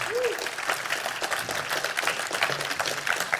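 An audience at a legal conference session gives a round of applause, a moderate wash of clapping heard from a distance in a large room, steady throughout with faint voices mixed in.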